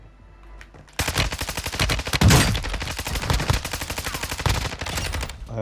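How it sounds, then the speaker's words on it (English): Rapid gunfire in the Resurgence video game, a dense stream of close, loud shots with burst-like rhythm that runs almost continuously after a brief quiet start. "A lot of shooting, is that you two?"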